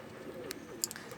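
A pet pigeon that has been ill in the leg coos softly, a brief low murmur with a couple of faint clicks close by.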